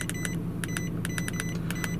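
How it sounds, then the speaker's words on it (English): An iCarsoft CR PRO handheld scan tool gives short, thin electronic beeps each time a button is pressed, about a dozen quick chirps in irregular clusters over a steady low hum inside a car. "There's a slight beep every time you press the button."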